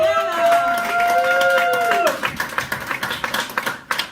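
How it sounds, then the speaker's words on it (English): Comedy club audience claps and whoops for a surprise drop-in comedian, Liliana, at a comedy competition; a voice carries over the first two seconds, then a loud burst of clapping follows with sharp, scattered hand claps. "Why don't we give a big, beautiful round of applause to our surprise drop-in guest, Liliana, everybody."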